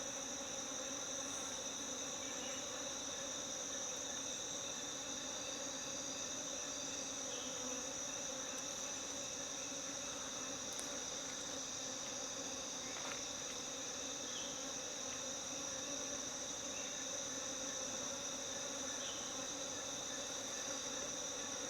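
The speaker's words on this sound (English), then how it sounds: "There's a lot of insects, a lot of cicadas and all sorts there making lots of noise." Dense insect buzzing from bees and shrill cicada drone fill the jungle air continuously, a steady layered hum with no voices.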